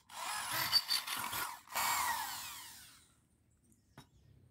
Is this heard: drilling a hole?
yes